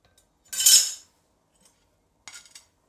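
Jowar thalipith is lifted off a pan onto a dish, heard as a short metallic scrape and clink of a spatula, then a quieter pair of light clinks after a pause of near silence.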